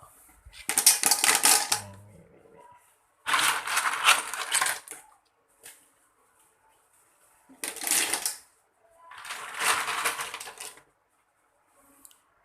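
Handfuls of soaked clams tossed into a cooking pot for steaming, giving four separate bursts of loud, close clattering rattles with short silent pauses between them.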